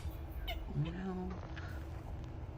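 A cat gives a drawn-out meow, close and moderately loud, set against steady background noise and a faint voice.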